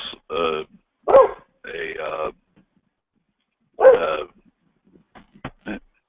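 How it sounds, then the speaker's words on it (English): A pet dog named Sammy barks a few sharp times at close range, with short yips and whimpering in between, and someone speaks nearby. "quit barking"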